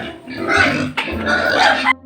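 Pigs grunting and oinking on a farm in Zambales, two loud bursts of close, rough vocalizing separated by a brief pause.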